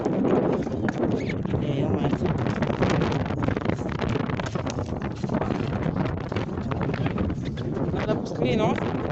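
Strong wind buffets the microphone in a steady, loud, broadband roar on a frozen, uninhabited island at about -40°, with no clear gaps.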